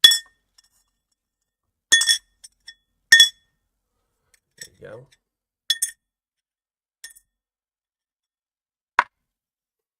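Small metal gold pan clinking in a series of sharp, bright taps spread out with pauses between them, close and fairly loud, with a brief murmur of voice in the middle.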